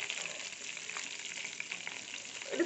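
A tablespoon of urad dal fries in oil for an Onam feast koottukari, producing a soft, faint, steady sizzle with light bubbling crackles, heard up close with no talking.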